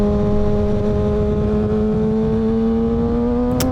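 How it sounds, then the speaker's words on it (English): A Kawasaki ZX6R motorcycle engine holds a steady, loud drone with its pitch rising slowly as it gains revs, with a brief click near the end. "You hear my bike"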